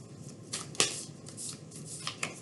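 Slightly sticky old tarot cards are shuffled by hand close up, giving a few soft riffling and flicking bursts over about two seconds.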